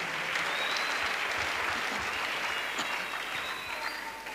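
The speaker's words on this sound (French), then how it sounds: "Acclamation à Jésus-Christ." Sustained applause from a large crowd at an evangelical crusade fills the space, dense and steady clapping with faint shouts mixed in, gradually tapering at the end.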